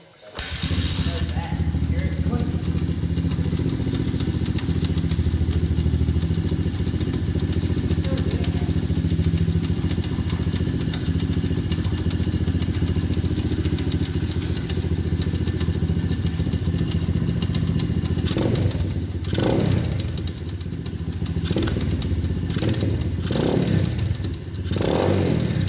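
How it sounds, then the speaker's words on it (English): A green Apollo 125 pit bike engine running rough, loud and close with a steady uneven drone and clattery idle, with a few throttle dips and blips near the end while voices talk faintly over it. "The green Apollo, that motor was not happy."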